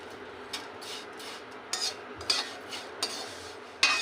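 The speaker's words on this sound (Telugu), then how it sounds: "దీన్ని కలుపుతూ వేయించుకోవాలి" Something being stirred and fried in ghee in a pan, with quiet spoon scrapes and clinks against the pan over a soft background sizzle, close but low in level.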